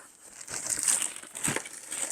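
A plastic packet from a mail-order parcel crinkles and crackles as it is handled and opened during an unboxing, with close, irregular rustling bursts and no talking.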